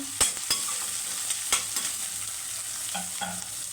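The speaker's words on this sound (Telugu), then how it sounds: "సన్నగా తరిగి పెట్టుకున్న ఉల్లిపాయ ముక్కలు బాగా వేగాలండి మంచిగా" Finely chopped onions frying for an egg masala curry: a steady soft sizzle close by, broken by sharp clicks of a spoon against the pan as they are stirred, with no talk.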